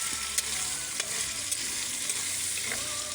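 Tomatoes, chili and onion frying in a pan over a wood fire, a steady broadband sizzle with a few sharp pops and crackles throughout, close and continuous with no talking.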